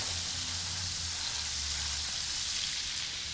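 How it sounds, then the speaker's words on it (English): Pork loin sears loudly in a hot pan, a steady broadband sizzle that holds constant throughout, close and uninterrupted. "we're just gonna sear it off. That's the sound we wanna hear."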